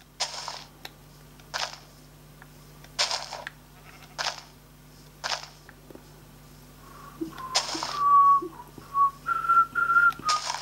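A person whistles a tune in short, thin bursts over a low steady hum, faint and uneven; sharp clicks like a camera shutter are scattered throughout, and a few brighter sustained notes come near the end.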